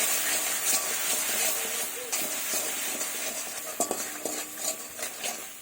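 Onion and garlic paste sautéing in a pan with salt and turmeric for a fish curry, a continuous hiss with scattered scraping clicks from a spatula stirring against the pan.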